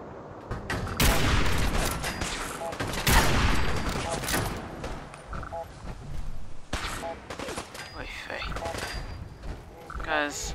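Enemy gunfire in the Fallout 4 video game, with rapid bursts of shots that come in dense volleys, loud and close, plus weapon mechanics and game effects layered over the fighting.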